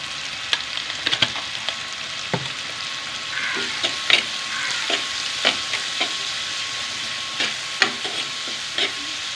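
Shallots sizzle and fry with salt in a pan with a steady crackle, punctuated by occasional stirring scrapes and clicks, heard close with no talking.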